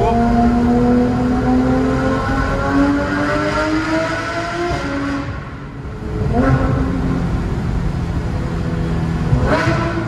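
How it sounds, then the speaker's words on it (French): Porsche GT3 RS fitted with an IPE exhaust, valves opening as it downshifts: a loud, close engine drone with falling then rising pitch sweeps, a brief dip and renewed revving blips. "dès que je vais faire un petit rétrogradage, vous voyez là les valves elles s'ouvrent"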